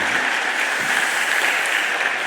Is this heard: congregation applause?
yes